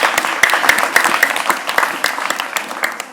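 An audience at a mosque event for children claps, the applause sparse and uneven with distinct sharp hand claps over a murmuring room, thinning toward the end.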